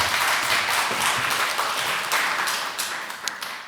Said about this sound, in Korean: 나오실 때 환영의 박수 한번 해주시죠.